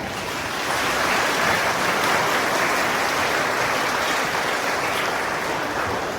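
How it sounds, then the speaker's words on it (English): An audience at an Independence Day celebration applauds after a patriotic performance, a steady, dense wash of many hands clapping that holds loud and even throughout without pause. "A big round of applause for everyone."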